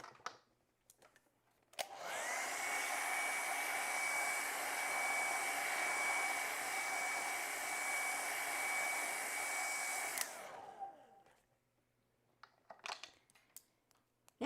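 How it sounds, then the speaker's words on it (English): A hair dryer blows on wet acrylic paint for about eight seconds, a loud, steady whirring roar that starts and stops abruptly, with faint handling clicks before and after. "And let me dry that real quick."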